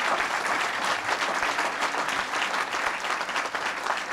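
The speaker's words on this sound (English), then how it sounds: "Please give him a big round of applause." Sustained audience applause at a 1998 presidential HIV/AIDS initiative announcement, a full, even roar of many hands clapping throughout at steady volume, with no voices over it.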